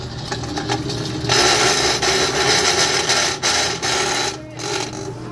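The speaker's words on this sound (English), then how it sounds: "That noise is just this top plate rubbing together." Continuous scraping, rasping rub of a Hobart cheese shredder's metal top plates grinding against each other, steady and close, with brief dips in intensity.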